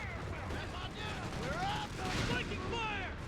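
Anti-tank gun fire against an AT half-track in Company of Heroes 3, heavy battlefield blasts and bursts of gunfire over a dense, rumbling combat din, with someone talking throughout.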